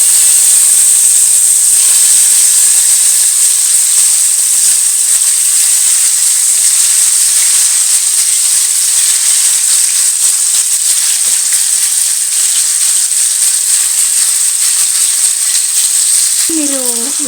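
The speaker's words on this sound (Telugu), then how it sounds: "కొంచెం కొంచెం ముక్కలేసి ఫ్రై చేసుకుందాం. ఆయిల్ హీట్ ఎక్కింది కదా," Pieces of food frying in hot oil in a home kitchen, a loud, steady, close sizzling hiss that continues unbroken throughout, with a brief clink near the end.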